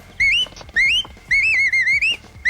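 A Bollywood comedy film scene carries repeated melodic whistling, several short rising-and-falling phrases with brief gaps between them, clear and close with no talking.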